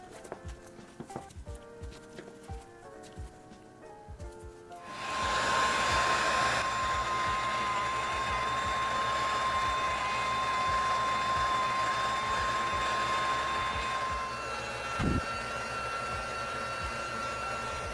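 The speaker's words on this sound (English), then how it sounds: "I'm going to tackle this by heating up the glue with the heat gun and scraping off the midsole with a spoon" A heat gun heating glue on a 1994 sneaker midsole blows with a steady, loud whooshing hum after a few seconds of light clicks and handling, running continuously up close.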